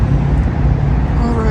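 Street traffic with cars passing nearby on an evening walk, a steady loud roadway rumble filling the short stretch while a person talks over it.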